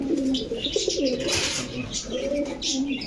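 Giribaj, coloured and racer pigeons cooing close by in a loft, soft repeated coos with a few chirps, a voice murmuring faintly underneath.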